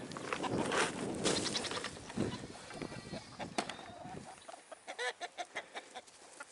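Chickens clucking and squawking in a busy, overlapping flock while eating grubs, with a run of short rhythmic calls near the end.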